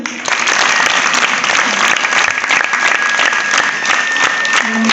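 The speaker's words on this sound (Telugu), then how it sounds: "అందరూ కూడా చప్పట్లు పెట్టండి" Schoolgirls at a Kasturba Gandhi school in Gangavaram clap loudly and continuously for a CCTV camera donation, a close, thick wash of applause lasting several seconds.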